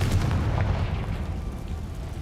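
Confringo blasting spell exploding in the video game Hogwarts Legacy: a loud, deep, rumbling boom that rolls on and slowly fades over about two seconds, with no talking.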